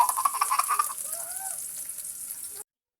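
Garlic, ginger and onion sauté in a hot pan, a bright, close crackling sizzle that is busiest at the start and then settles into a steady hiss before cutting off abruptly.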